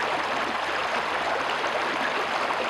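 Water flows steadily over rocks in a backwoods creek, a constant, even, hissing rush close by, with no voices or other sounds.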